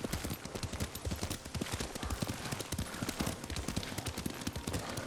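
Rapid, rhythmic clip-clop of horse hooves at a gallop, close and continuous, from riding a horse in the video game Ghost of Tsushima.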